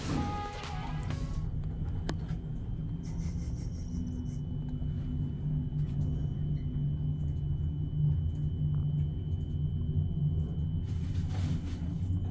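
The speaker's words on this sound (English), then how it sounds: "1980s United States dry-powered hydraulic lift with rough starts and stops, adding to the character." A 1980s American dry-powered hydraulic lift runs with a steady low rumble and a faint tonal whine, its rough start and stop marked by brief mechanical clatters near the beginning and end.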